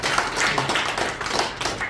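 Members of a reserve generals' association applaud together at an annual general meeting, giving brisk, close clapping that swells and thins in uneven bursts over a couple of seconds with no talking.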